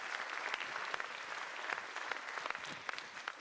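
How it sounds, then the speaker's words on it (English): An audience at a retiree reception gives steady applause. Many hands clap densely and evenly at a moderate distance for the whole stretch, with no speech over it. "let's give them a big round of applause and thank them for being here"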